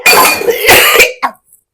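Harsh, breathy coughing up close, a long rough fit followed by one short final cough, then silence.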